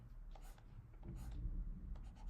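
Marker or chalk strokes on a board while an open-chain DNA nucleotide diagram is drawn, a series of short scratchy strokes with brief pauses, close and fairly quiet, with no one talking.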